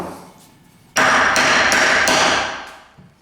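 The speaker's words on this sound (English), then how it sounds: "with the cold chisel" A hammer strikes a cold chisel during the restoration of an 1865 Forster & Andrews pipe organ, four loud, close metallic blows in quick succession, with ringing that fades afterward.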